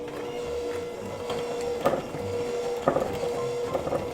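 An electric hand mixer runs steadily through gingerbread cookie dough in a cast-iron skillet, a constant whirring hum with a few louder knocks as the beaters strike the pan, no talking.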